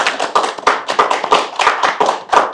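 A small audience at a Gwangju candidates' debate claps to welcome a candidate, a crisp run of individual handclaps close by, roughly even in rhythm and lasting a couple of seconds without talk.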